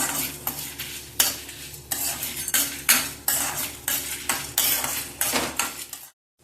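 Chana dal dry roasting in a pan gives rhythmic scraping and clattering as a spoon stirs the lentils, a roughly even series of strokes with a faint sizzle beneath, ending abruptly.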